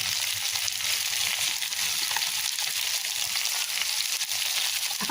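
Potatoes and onions sizzling and frying in a pan with a steady, dense crackle and hiss throughout, loud and close with no talking.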